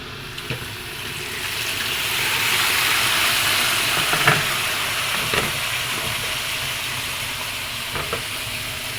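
Squid goes into a pan of garlic that is already browning, and a loud, steady sizzle of frying fills the whole stretch, with a few soft clinks and stirring sounds and no talking.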